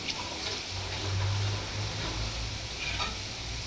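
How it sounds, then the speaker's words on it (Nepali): Garlic fries in hot oil while being stirred until golden brown for momo achar, a steady close sizzle with occasional scraping strokes from a spoon against the pan. "लसुनलाई एकछिन चलाउँछौँ रातो हुने गरी।"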